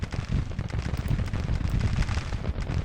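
Gunfire in a large Civil War battle in Grand Tactician rolls on as dense, overlapping crackling volleys with booming low thuds, a continuous distant fusillade that never pauses.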